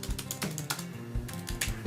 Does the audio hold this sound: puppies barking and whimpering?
no